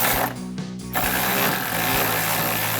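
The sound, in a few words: socket ratchet and wrench tightening bolt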